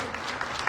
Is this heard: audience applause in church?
yes